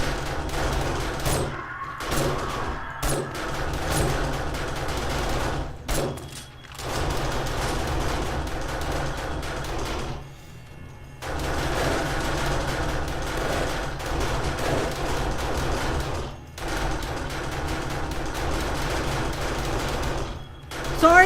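Turrets in the video game 7 Days To Die firing at zombies during a horde night, dense rapid machine-gun bursts broken by short pauses, loud and continuous.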